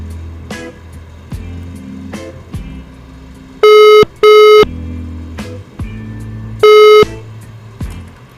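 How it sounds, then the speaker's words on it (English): Phone call tones during dialing: a repeating low ringback-style tone pattern broken by several loud, sharp high beeps, heard alone with no talking. "Maybe, just maybe, Gift is going to answer the phone."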